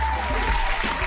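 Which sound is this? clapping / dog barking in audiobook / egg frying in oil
clapping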